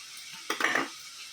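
Green chillies dropped into hot oil with fried ginger and garlic while making chana biryani, giving a short, quiet burst of sizzle and clatter lasting under half a second, with no talk.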